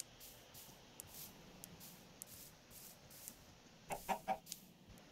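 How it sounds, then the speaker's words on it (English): Chicken clucking in a Minecraft hardcore game, a short cluster of several clucks late in the clip over quiet game ambience, fairly close and clear. "Right, we're keeping this chicken with us."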